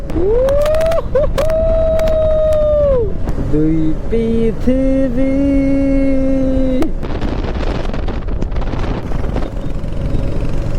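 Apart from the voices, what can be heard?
Royal Enfield Hunter 350 motorcycle exhaust sound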